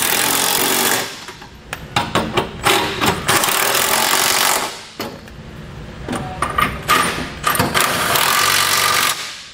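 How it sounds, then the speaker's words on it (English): A power tool with a 19 millimeter socket tightens trailer hitch bolts in loud, rattling, hammering bursts, with two long runs separated by a brief pause and sharp stuttering pulses between them. "We can now go back and tighten our hardware with a 19 millimeter socket."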